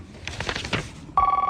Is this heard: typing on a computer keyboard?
no